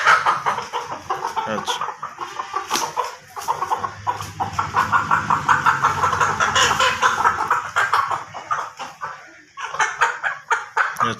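Aseel roosters from Mianwali cluck in quick, repeated bursts, close and clear, several birds overlapping with a brief spoken word among them.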